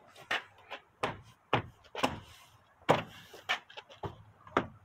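Plastic front door panel on a 2003 Toyota Tundra pressed back onto its tabs, giving a series of sharp, close knocks and clicks spaced about half a second apart, with no talking.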